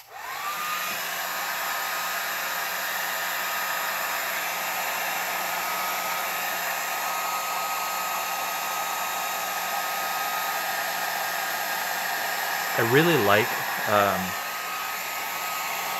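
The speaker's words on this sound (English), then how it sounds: "I'm gonna turn on the blow dryer." A blow dryer runs with a steady, loud whir for the whole stretch, drying fluid art paint, and a voice speaks briefly over it near the end.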